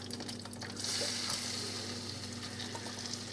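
Two teaspoons of minced garlic sizzle and fry steadily in a pan as chicken piccata is made, a continuous close crackling hiss with no voices.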